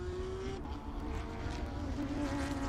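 Onboard a race car at the Sebring SpeedTour, with a steady, loud engine drone and a whining tone that rises and falls slightly, continuous throughout with no talking.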